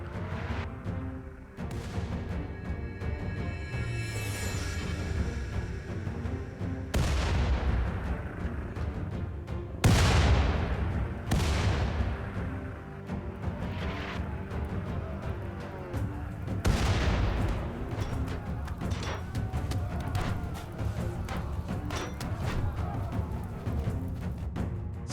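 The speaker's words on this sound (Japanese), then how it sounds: "新型兵器カノン砲による無慈悲な砲撃が開始された" Cannon artillery pounding away in a medieval RimWorld colony game, several loud booming blasts spaced a few seconds apart over continuous rumbling battle noise, with a voice narrating throughout.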